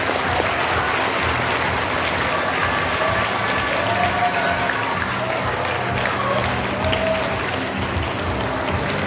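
At a National Sports Day event, a crowd applauds children's team winners with a steady, continuous wash of clapping, with some crowd murmur and light cheering mixed in, lasting the whole stretch.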